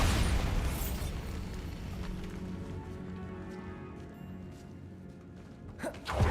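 A Bombarda explosion spell goes off in a video game: a heavy, booming blast hits at once, then fades into a long, low rumble, with a brief pop near the end.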